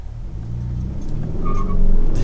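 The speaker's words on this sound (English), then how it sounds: "Let's do another 0 to 60 now that we got a good straightaway." A 2022 Hyundai Sonata N Line 2.5T FWD pulls hard from first gear, its engine note rising and growing steadily louder in a close, continuous rumble.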